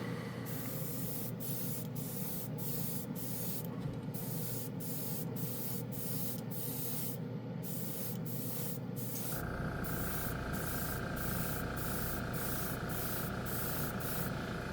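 Rust-Oleum low odor spray paint hisses from the can in continuous close bursts onto a black spoon, with rhythmic brief breaks as the nozzle is worked and a shift in tone partway through.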